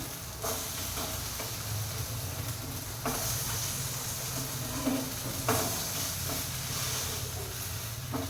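Sabudana vada shallow-frying crisp in a pan, giving a steady close sizzle and hiss throughout, broken by a few brief scrapes and taps of a spatula.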